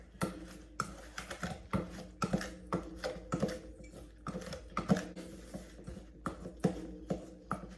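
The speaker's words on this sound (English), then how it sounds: "I'm going to use my pastry cutter. You can use fork or 2 knives to cut that butter and flour and everything in together" Pastry cutter working cold butter into flour and oats in a bowl, giving a steady run of close, dry clicking and scraping strokes at an uneven hand rhythm, with no talking.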